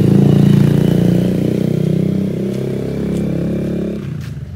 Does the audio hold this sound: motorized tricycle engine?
yes